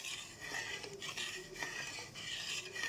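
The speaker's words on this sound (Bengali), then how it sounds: "এইবারে আমাকে এটাকে নাড়াতে হবে চিনিটা যাতে গলে যায়" Milk with sugar for rabri is stirred in a metal pan, a spoon scraping and clinking rhythmically against the sides in close, steady strokes over a faint background hiss.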